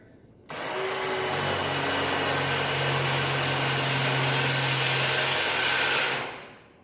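A power drill whirs loudly and steadily for about six seconds, drilling through a spot weld joining two metal pieces, then spins down and stops.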